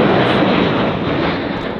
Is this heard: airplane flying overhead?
yes